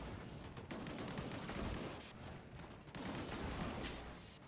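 Explosions and gunfire in the sci-fi shooter Disintegration: a dense, loud, continuous roar of booms and crackling blasts, with heavier surges near the start and again around the three-second mark.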